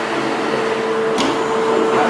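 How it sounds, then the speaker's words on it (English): A Robox 3D printer runs its automatic build-plate leveling, giving a steady close mechanical whir with a sustained motor tone and one brief higher whine partway through. "It's automatically checking the leveling of the plate."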